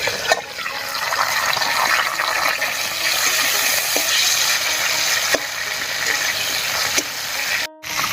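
Potatoes frying in an open pan during cooking of a vegetarian pumpkin curry, a steady broadband sizzle running throughout at fairly even loudness, with a brief clatter near the end.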